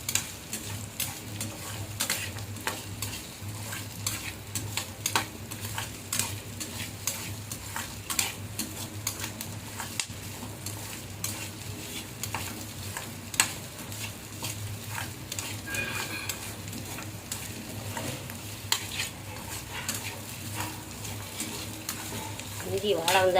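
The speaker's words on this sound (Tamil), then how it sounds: "எல்லாம் சிம்மில் வச்சு தான் வறுக்கணும்." Mutton stir-fried in sesame oil over a low flame, with steady close sizzling and frequent scraping, clattering strokes of a spoon in the pan throughout.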